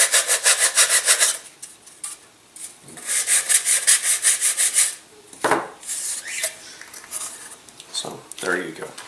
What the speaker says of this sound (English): Just want to sand that little burr off of there and on either side here.